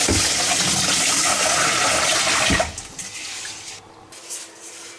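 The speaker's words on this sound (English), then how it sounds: "you fill in water." Tap water pours loudly into a pot of rinsed rice, a rushing, splashing stream for about two and a half seconds that then cuts off, leaving a quiet room with faint trickles.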